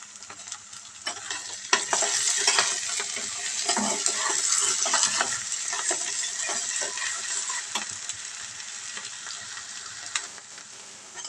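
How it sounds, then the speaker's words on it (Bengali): Onions fry in a pan with a bright, steady sizzle while a spatula stirs and scrapes in irregular bursts, near and clear, with no voices. "এই যে পেঁয়াজটা একটু ভাজা ভাজা হয়ে গেছে"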